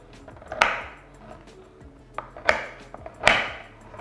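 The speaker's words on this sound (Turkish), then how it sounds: "Çikolatayı parçalayarak başlıyoruz." Several sharp snapping cracks of chocolate being broken into pieces ring out at irregular intervals, close by, with quieter clicks and handling noise between them.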